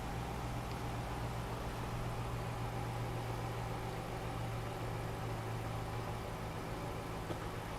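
An Audi V8 engine idles with a misfire, giving a steady low rumble heard close and continuous throughout, with no talking over it.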